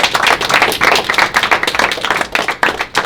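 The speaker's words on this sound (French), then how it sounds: "Alors qu'on peut applaudir les gars quand même." A group applauds the presenters in a room, a close, loud patter of many hands clapping continuously for a few seconds with uneven peaks.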